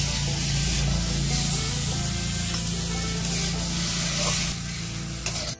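Chopped tomatoes sizzle and spit in a hot frying pan with oil and salt, a steady close hiss that runs throughout with low spattering underneath and no voices.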